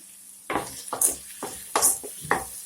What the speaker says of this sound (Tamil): வெங்காயம் நல்லா வதங்கணும். கொஞ்சம் சால்ட்டு போட்டுங்க வெங்காயம் வதங்கிறதுக்கு.